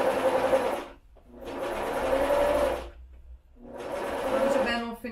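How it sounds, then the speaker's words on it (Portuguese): A sewing machine stitching a fabric face mask, whirring in three steady runs of rapid needle chatter separated by brief pauses, close and loud. "Aí você costura dos dois lados."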